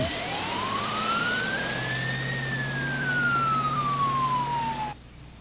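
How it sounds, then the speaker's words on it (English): An ambulance siren wails in one long rising then falling sweep over steady traffic rumble, loud and close, cutting off near the end. "A mobile medic ambulance was immediately dispatched to the scene."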